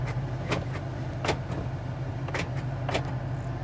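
The power door locks of a 1984 Hurst Oldsmobile Cutlass clunk in several sharp, quick clicks over the steady low idle of the car's engine, close by.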